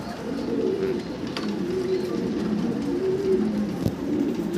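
Pigeons at a fancy pigeon farm coo steadily in low, rolling murmurs, several birds overlapping at close range, with no voices over them.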